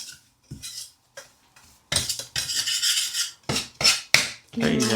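Semolina is roasted in ghee inside a pressure cooker, a metal spoon scraping and clattering against the pot in uneven bursts separated by short pauses.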